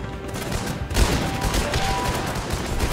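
Dense video-game gunfire from Guns Up!, rapid shots and bursts fired at enemy towers, loud and continuous across the whole stretch with a sharper volley about a third of the way in.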